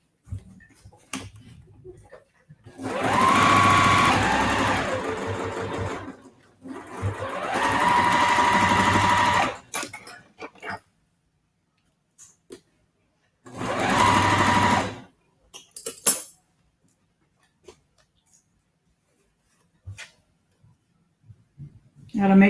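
A sewing machine stitches quilt block pieces in three loud, close bursts of rapid whirring, each several seconds long, separated by pauses filled with brief clicks and handling sounds.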